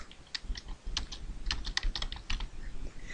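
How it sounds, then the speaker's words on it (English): Light, rapid typing on a computer keyboard while entering a first name into a spreadsheet cell, a quiet, uneven patter of keystrokes with no voice. "type your first name"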